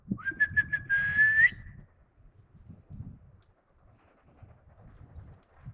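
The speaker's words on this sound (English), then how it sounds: "I really trained him on a recall based on my whistle." A single sustained whistle blast, slightly rising at the end, followed by quiet shuffling and soft movement noises nearby.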